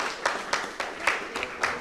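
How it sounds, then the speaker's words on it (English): Scattered applause rises at a panel discussion event, a handful of distinct claps landing in a loose, uneven rhythm at moderate volume, with faint room noise between them. "Let's have a round of applause"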